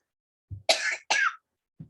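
Two or three sharp, close coughs sound in quick succession, with a short throat-clearing before and after them and silence in between.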